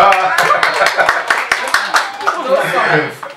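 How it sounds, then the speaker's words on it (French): Scattered hand claps ring out over a noisy room at a charity sale while voices talk and call out, the clapping uneven and mixed with the chatter. "Applaudissez le Seigneur."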